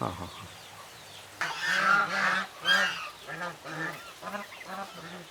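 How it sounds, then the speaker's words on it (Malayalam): A goose on a small farm with turkeys, rabbits and chickens, honking in a series of loud, nasal calls close by, following a quieter opening. "ഇവിടെ ഈ ഗൂസുണ്ട്"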